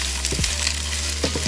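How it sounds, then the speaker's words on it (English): Shrimp and broccoli stir-fry in a hot pan, a continuous bright sizzle with repeated scraping tosses over a low steady hum nearby. "So you want to go ahead and add in the broccoli. Get out a good mix."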